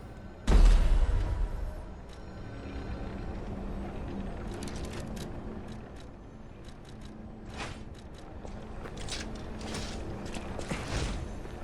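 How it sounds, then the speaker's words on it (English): Weapon-assembly mechanism in the game Lies of P, joining a wrench head to a baton handle: a sharp mechanical clunk opens, then a long run of metallic creaks and ratcheting clicks with a steady ambient hum underneath. "Weapon assemble."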